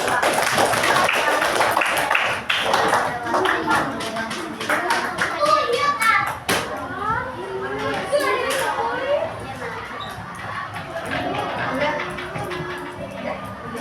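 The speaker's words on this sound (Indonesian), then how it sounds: "Tepuk tangan buat Mas Jess." Steady applause from a group of children, sustained clapping with lively kid chatter and shouts mixed in throughout.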